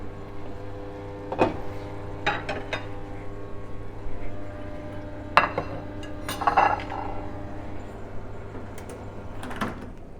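Cutlery and dishes clink while salmon and zoodles are plated in a home kitchen: a few separate sharp clatters and taps spaced over several seconds against a steady low hum.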